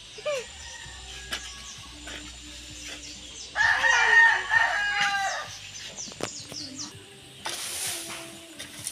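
A rooster crows once, loud and fairly close, with faint background noise before and a brief chirpy sound after.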